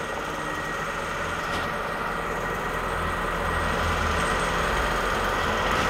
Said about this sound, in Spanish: Cuando ya se pone en movimiento el motor, ahí va.